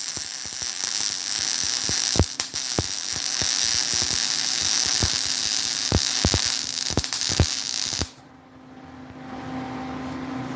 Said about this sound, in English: One last weld for good measure.